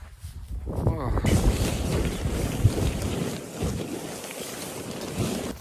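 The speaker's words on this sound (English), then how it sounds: "It's really windy outside." Strong wind blows outside a survival shelter in Shropshire, a loud roaring gust with heavy buffeting on the microphone that follows a brief quieter opening and continues for several seconds.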